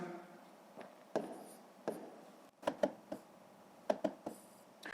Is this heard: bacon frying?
no